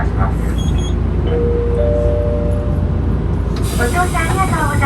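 Tram on a streetcar line running toward Ino, Kochi, with a steady low rumble of wheels on track and a faint tonal whine, joined near the end by a brighter burst of noise.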